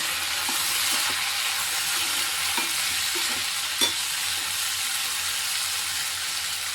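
Green chillies sauté in a pan for a Tamil garlic tamarind curry, giving a steady broadband sizzle with a few faint scrapes of a stirring spoon and no talk.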